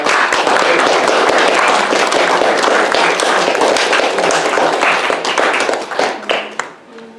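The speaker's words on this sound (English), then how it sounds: "Please give them a welcoming round of applause." Loud, sustained audience applause welcoming presenters at a lecture on Tappan Adney, many hands clapping steadily at close range before tapering off near the end.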